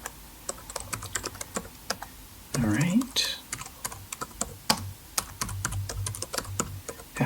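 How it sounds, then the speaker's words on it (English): Computer keyboard typing in an office job-interview setting, rapid irregular keystroke clicks running throughout at close range, with brief speech in the middle. "Have to do a lot of administrative passwords here, lots of typing."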